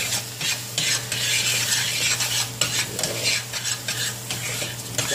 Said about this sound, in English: Y'all heard me drop the eggs in there.